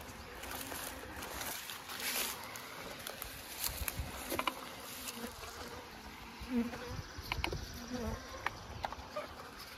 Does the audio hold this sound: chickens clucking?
no